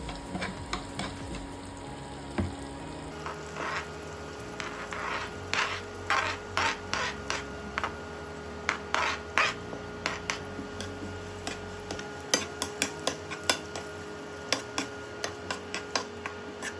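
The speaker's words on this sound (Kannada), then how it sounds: "ಸೊ ಈ ಥರ ಎಲ್ಲ ಕರೆಕ್ಟಾಗಿ ಮಿಕ್ಸ್ ಮಾಡ್ಕೋಬೇಕು" Egg bhurji with chopped onions being stirred in a pan, giving a steady low sizzle under repeated scraping and clicking strokes of a utensil, close and moderately loud with no talk.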